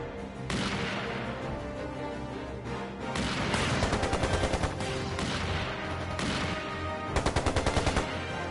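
Video game gunfire during an assault in Trails Into Reverie, with dense continuous bursts of automatic fire over a loud background, and rapid rattling volleys that rise and fall in waves.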